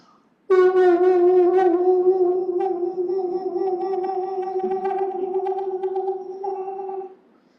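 A human voice imitates a pectoral sandpiper's display call: a long, hooting, wavering tone with a slightly electronic, echoing quality, held steady for several seconds.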